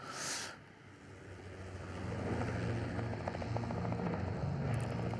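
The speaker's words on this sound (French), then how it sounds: "L'hélicoptère qui arrive à Isla Nublar." Helicopter flying in to Isla Nublar in a Jurassic Park video game: a steady, broad rotor and engine rumble that builds after a brief bright burst at the start and holds under low game ambience.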